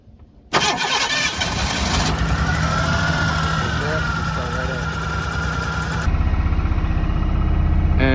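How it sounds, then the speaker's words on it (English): A 1991 Ford Ranger XLT with an ignition problem is started by bridging the starter solenoid: a loud starter crank that catches into a steady idle, then a heavier rumbling near the end. "And just like that, it's all started up."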